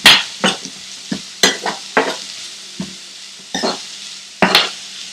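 Finely chopped garlic and two green chilies are stirred in a hot pan for a spinach and paneer dish: irregular scraping strokes and clacks from a spoon over a soft sizzle, close and fairly loud, with no talking.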